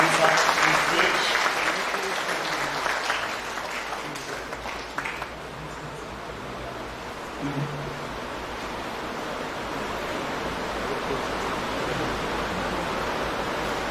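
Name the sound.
audience applause for gentleman coming on stage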